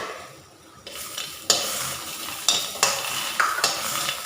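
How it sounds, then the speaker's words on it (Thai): Chili, garlic, shallots and young galangal stir-fry in a pan for Lao vegetable soup, a steady sizzle broken by several sharp scrapes and clacks of a utensil against the pan, close and alone without talk. "เฮาสิมาคั่วพริกกระเทียมหอมแดงกับข่าอ่อนเนาะ"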